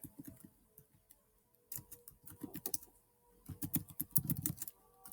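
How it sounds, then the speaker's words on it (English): A computer keyboard clicks in uneven bursts of close, light keystrokes, with short pauses between flurries and no voices. "just type in Wang Khan, Prester John"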